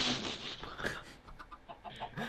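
Minecraft chicken clucks in short, soft bursts from a small farm-pen chick, a few scattered clucks over faint background game ambience.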